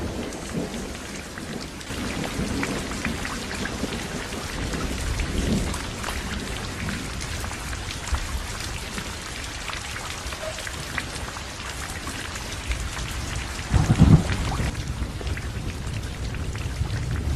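Heavy rain pours steadily on surfaces, a dense constant hiss, with low thunder rolling in the background and a sharper, louder thunder crack near the end.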